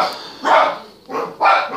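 A dog barks three times in quick succession, fairly close and loud, with short pauses between barks.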